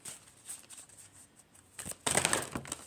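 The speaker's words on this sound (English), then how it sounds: "Let's do another shuffle." Tarot cards being shuffled by hand, a soft papery riffling that stays faint at first, then swells into a louder, denser burst near the end, with no talking.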